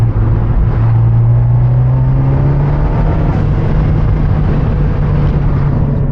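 Steady droning engine and exhaust note from an Abarth 124 Spider while driving, heard from inside the cabin with windows down, a continuous low hum holding a constant pitch with wind noise over it.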